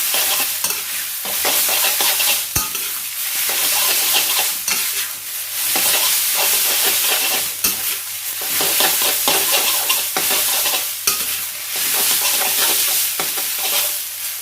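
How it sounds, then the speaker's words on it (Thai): Steady loud sizzling and scraping as rice noodles with dark soy sauce are tossed in a hot wok, with occasional sharp clanks of the spatula against metal. "ผัดยังไง ตั้งไฟยังไงที่ไม่ให้เส้นหมี่ติดกระทะ"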